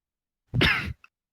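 A single harsh cough from a woman choking after spit went down the wrong pipe, one short close burst followed by a tiny catch of breath.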